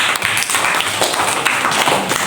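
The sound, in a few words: class clapping for a student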